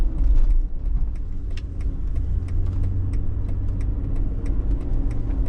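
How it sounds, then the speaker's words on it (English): A 2005 Mercedes-Benz G500 Grand Edition V8 idles in a steady, low, smooth rumble, heard from inside the cabin with faint light clicks and rattles over the continuous hum. "Idle, the car feels like it's off."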